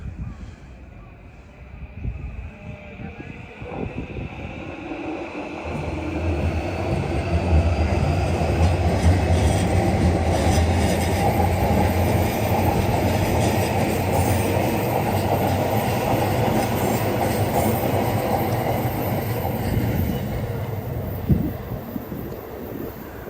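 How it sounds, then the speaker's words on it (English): Yamanote Line trains pass on elevated tracks near Uguisudani station in Tokyo, a loud sustained rumble and rattle of railcars that swells and holds for many seconds, with faint wheel squeal and street ambience around it. "Oh, and there's the Yamanote line trains."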